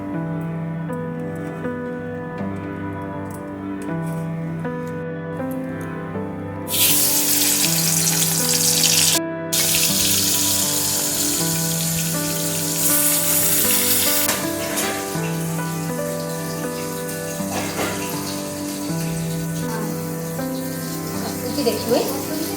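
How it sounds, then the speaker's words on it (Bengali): Rohu fish pieces fry in hot mustard oil, a steady sizzling with bursts of louder spitting and crackling, heard up close while a person talks over the cooking. "সর্ষের তেলটা দিয়ে দিলাম, গরম হয়ে গেলে কি মাছগুলো দিয়ে দেবো।"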